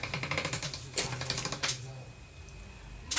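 Polymer clay is run through a hand-cranked rolling machine on its second setting, giving a close, rapid mechanical clatter and a few sharp clicks, with a voice speaking over it.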